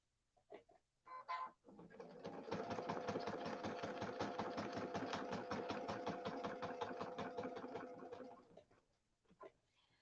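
A sewing machine stitching echo quilting lines on a quilt, a rapid even mechanical whir of needle strokes running for several seconds. A few clicks come before it starts, and it winds down to quiet handling at the end.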